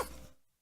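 A single short cough bursts out close by and decays to near silence within half a second.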